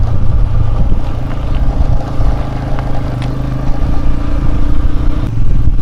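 A loud, steady engine drone runs throughout with a rattly low rumble, like a motorcycle idling and revving gently up close.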